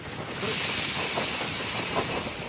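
A MEMU express train between Kakinada Port and Visakhapatnam rushes along with a broad, steady hissing roar of wind and wheels, loud and continuous from onboard, with faint rhythmic rail knocks.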